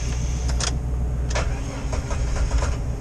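A Jeep TJ's fuel-injected engine cranks repeatedly, trying to start with a suspected fuel pump fault, a steady low starter churn punctuated by a few sharp bursts, loud and close.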